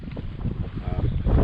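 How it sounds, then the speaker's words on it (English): Gusty wind buffeting the microphone on a fishing trip for trout on the water, low rumbling and uneven, growing stronger toward the end. "But it is getting windy"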